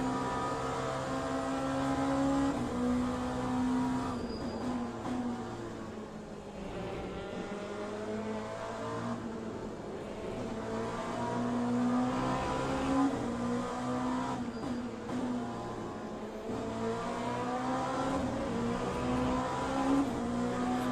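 Race car engine in the video game Le Mans Ultimate, a continuous loud whine that rises and falls through repeated gear shifts and revs across the lap, steady and close with no talk.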